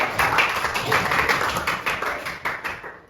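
Students in a classroom clap for their classmates, a brief burst of close, uneven hand claps that swells and tapers over a few seconds, with faint voices mixed in.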